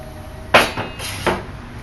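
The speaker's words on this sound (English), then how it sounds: "So I'll be taking this nut off and removing the burner. And the burner comes off like so." A metal burner is taken off a propane patio heater, giving three sharp metallic knocks and clanks close up, the first the loudest, with quiet pauses between.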